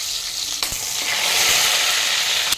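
Mustard seeds, cumin and garlic hit hot oil with a steady, loud sizzle and crackle that hold throughout, with no voices.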